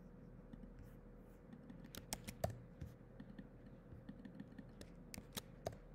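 Keys clatter on a computer keyboard in quick, uneven bursts of clicks, faint and close in a quiet room with a low hum beneath.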